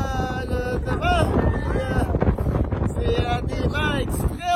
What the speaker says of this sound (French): C'est des vents extrêmes.